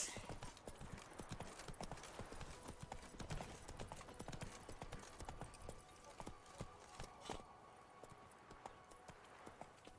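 Hooves of the horse Roach clip-clop steadily at a brisk pace in the video game Witcher 3, with dense rhythmic footfalls throughout and a brief voice heard faintly beneath.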